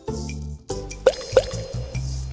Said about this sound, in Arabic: بعد كده هحط الالوان بتاعة الاكل